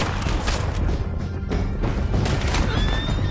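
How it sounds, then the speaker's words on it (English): Horses neigh and whinny in Red Dead Redemption 2, close and loud within a dense, rumbling battle din of hooves and booms that runs throughout. "Men on horses, John!"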